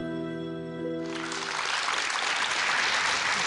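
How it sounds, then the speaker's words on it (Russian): A TV talk show studio audience breaks into applause for a guest: after a second of sustained musical tones, dense, even clapping swells and holds, loud and close. "Это вам аплодисменты."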